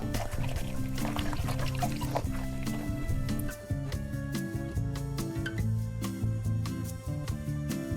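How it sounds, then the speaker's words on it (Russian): Water runs and splashes while glass jars are rinsed in a chlorine solution by hand, with irregular clinks of glass and drips over a continuous trickle, close and moderately quiet. "И сейчас вымою банки, поставлю банки, чтобы стекала вода."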